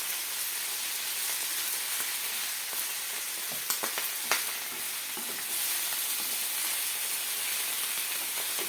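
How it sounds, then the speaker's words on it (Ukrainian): Steady sizzling of morel mushrooms frying in an uncovered pan, a soft continuous hiss with a few brief clinks and stirring sounds partway through. "кришки не накриваємо, щоб вони гарно у нас підсмажились"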